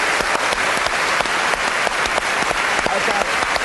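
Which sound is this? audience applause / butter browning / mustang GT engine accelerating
audience applause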